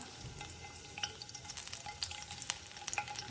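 Garlic fries in hot oil in a pan for a Kerala kadachakka curry, giving a close, steady crackling sizzle with scattered sharp pops and light stirring, with no talking.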